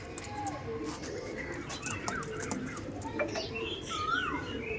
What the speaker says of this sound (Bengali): আর এটা হচ্ছে ম্যাড্রাস পায়রা, ম্যাড্রাস নর আছে